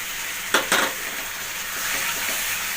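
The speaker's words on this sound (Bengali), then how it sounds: "খুব ভালো করে এটাকে কষাতে হবে" Fish curry masala with cashew paste being stirred and sautéed in a pan for a white bhetki curry: a steady sizzle with two sharp scraping strokes of the spoon near the start, then continued frying hiss.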